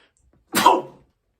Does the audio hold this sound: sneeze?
yes